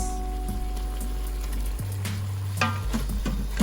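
Masala soya balls frying in a pan, a continuous close sizzle with light stirring scrapes and a low steady hum underneath.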